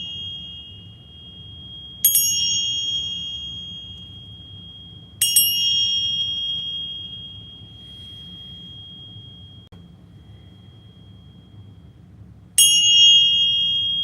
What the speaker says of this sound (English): We're going to center off with the bells here